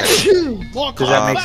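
A single sharp sneeze bursts out at the start, close and loud, during a voice chat in the co-op game Deep Rock Galactic, followed immediately by talking.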